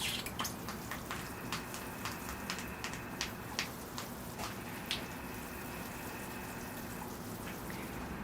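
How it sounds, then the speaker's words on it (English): Water is poured onto the soil of a freshly repotted Japanese black pine bonsai, giving a steady, soft trickle with scattered close drips and splashes throughout. "All right, here I go with the water."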